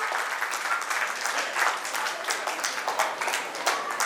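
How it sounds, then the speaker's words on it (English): Dense, lively applause from an audience at a preschool annual day, many hands clapping at once in a continuous burst. "Can we please have a huge round of applause?"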